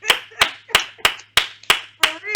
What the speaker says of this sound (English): I want to clap again